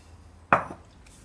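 A single soft clatter of sliced avocado pieces dropping into a bowl, one short close impact with a brief ringing tail, then quiet.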